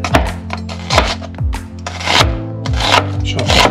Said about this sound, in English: Now cutting a medium-sized onion.